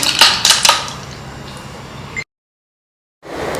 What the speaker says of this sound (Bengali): ভেতরে দিয়ে দিচ্ছি আইস কিউব